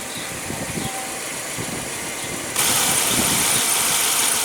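A 2015 Subaru Legacy's 2.5-liter flat-four engine runs steadily nearby, a low idling rumble that grows slightly louder and brighter partway through.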